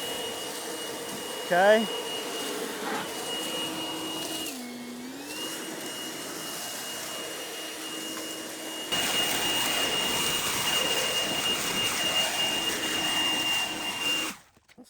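A leaf blower runs steadily, whining up in pitch, and then gets louder and rougher when it switches to turbo mode. A brief spoken word comes in near the start.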